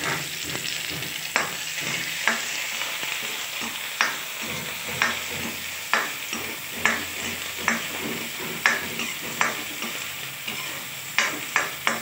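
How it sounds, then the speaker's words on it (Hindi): Onions fry in hot oil with a continuous close sizzle, while a spoon scrapes the pan in a regular rhythm of sharp strokes roughly every second. "ये देखिए हमारा ये तेल आ चुका है इसमें हम प्याज डाल देते हैं"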